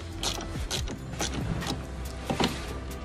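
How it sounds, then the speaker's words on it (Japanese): A socket wrench tightens bolts during work on a Honda Giorno scooter, giving a steady run of close metallic ratcheting clicks and mechanical rasps over a constant background hum. No one speaks. "最後しっかりソケットで締めていきます。"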